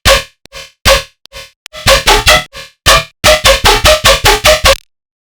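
Heavy tonal bass patch built in Serum, played dry with no processing: a series of loud, gritty, buzzy stabs, sparse and irregular at first, then a tight run of evenly spaced hits before it stops.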